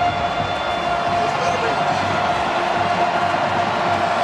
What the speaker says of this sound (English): Crowd is roaring in a